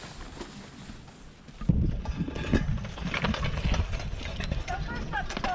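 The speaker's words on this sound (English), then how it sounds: "They are a team of Belgian horses." A team of Belgian draft horses at a home horse pull walk with a steady clip-clop of hooves, set against outdoor background noise and voices talking.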